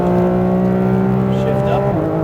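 A Porsche GT3 RS on the Speedvegas track holds a loud, steady high-revving engine note from inside the car, then drops sharply in pitch near the end as it shifts up, with an instructor's voice talking over it.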